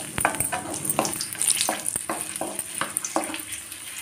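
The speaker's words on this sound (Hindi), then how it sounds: "और यहाँ पे मैं थोड़ी किशमिश भी डाल देती हूँ इन्हें भी भून लेती हूँ अच्छे से" Raisins roast in ghee in a pan, a soft crackling sizzle punctuated by repeated spoon scrapes and taps at an uneven rhythm, close and moderately quiet.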